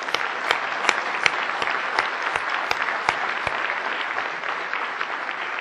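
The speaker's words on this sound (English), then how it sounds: "And I think everyone should give them a massive round of applause." Conference audience clapping for event sponsors at a meetup wrap-up, dense continuous applause with sharp individual claps standing out close by, no talking.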